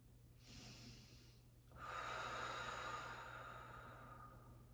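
Deep, slow breaths during a Pilates mat exercise for lower back pain, a softer inhale followed by a fuller, louder breath that swells and slowly fades, close and alone without talk.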